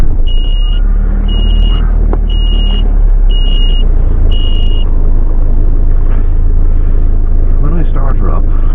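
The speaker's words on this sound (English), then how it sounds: "When I start her up, you heard that beeping." A van's low-voltage alarm sounds a series of short high-pitched electronic beeps at an even pace over a loud low engine rumble as it starts, then stops as the engine keeps running.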